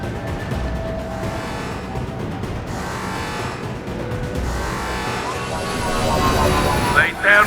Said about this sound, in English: Gunship's back and with full shield.